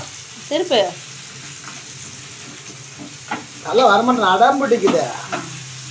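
Chilli fish sizzles in a hot pan as pieces are turned, with bursts of frying crackle and stirring scrapes under people talking nearby.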